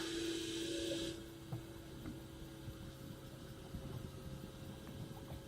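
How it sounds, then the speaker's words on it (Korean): An electric guide motor on a leisure fishing boat whines for about a second as it raises and then stops, leaving a low idling outboard engine rumble with a few faint clicks. "모터 소리가 싹 나긴 하는데 이건 정상입니다"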